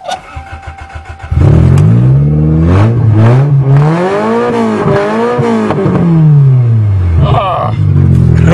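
Toyota GTS engine after a timing belt repair, cranking and catching then revving up and down in repeated rising and falling sweeps, loud and close, with brief talking over it.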